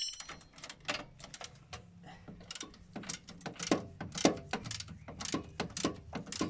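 A ratchet with a 19mm socket tightens a coilover nut on an MG F suspension, giving a run of close, sharp clicking bursts with short pauses between strokes.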